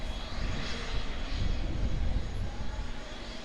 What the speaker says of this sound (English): It is Fiji Airways with the Airbus A350, A330 coming in from